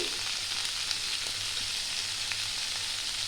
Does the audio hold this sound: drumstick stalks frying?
yes